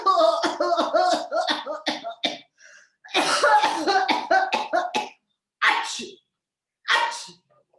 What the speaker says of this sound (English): Why are you sneezing? Why are you coughing so much?